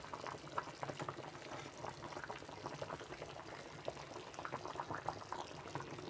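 Fish head curry simmers in a pot with a steady, quiet bubbling and popping that continues evenly throughout, faint and close, with no voices.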